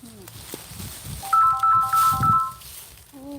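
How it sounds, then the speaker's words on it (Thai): A mobile phone rings with an incoming call outdoors among rubber trees, a bright repeating melodic ringtone pattern rising for about a second and a half over rustling and handling noise, with brief voice sounds around it. "โทรศัพท์เข้าดัง"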